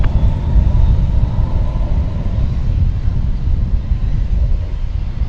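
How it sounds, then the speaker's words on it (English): An Airbus A321 airliner at DFW Airport roars steadily and loudly, a continuous broadband engine rumble with no talk over it. "This will be an Airbus A321."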